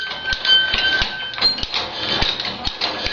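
Hand crank turning a mechanical bear-and-bull art sculpture, giving a steady run of clicking, ratcheting mechanical taps with a faint whirring squeak over about three seconds, close and fairly loud.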